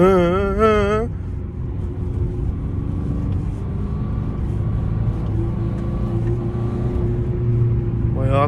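A Fiat Egea 1.3 Multijet diesel engine hums and rises steadily as the car drives and accelerates, heard from inside, with a brief voice at the start.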